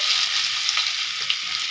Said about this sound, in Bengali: কড়াইতে আমার তেল, ভাজা তেলটাই রয়েছে, আর এর মধ্যে দিয়ে দেবো আমি পেঁয়াজ